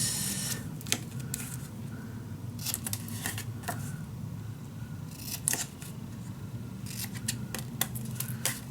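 Scissors snip through scored paper for a desk storage box, a run of sharp, close cuts in irregular bursts over a steady low room hum.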